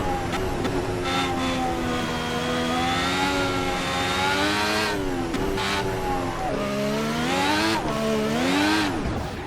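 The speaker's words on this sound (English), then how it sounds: "Just pinging the engine off the limiter," A race car engine, held near its rev limiter, drones loud and continuously with pitch sweeping up and down, briefly dipping and rising again in hard revving bursts.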